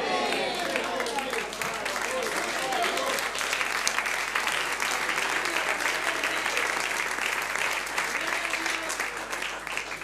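A church congregation at an evening service in Santiago, Chile claps together in a dense, sustained round of applause lasting about ten seconds, steady and loud throughout with scattered voices mixed in.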